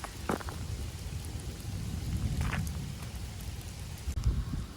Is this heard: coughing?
no